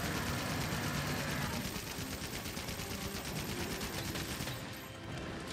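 Heavy bowgun firing special ammo in Monster Hunter World, a dense rapid barrage of gunfire-like bursts with game effects, loud and continuous, easing slightly near the end.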